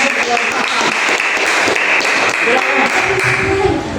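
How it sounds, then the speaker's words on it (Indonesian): A classroom of students applauds a presenting group after a lesson on the holy books, dense clapping held at an even level throughout with voices mixed in. "tepuk tangan semuanya buat kelompok"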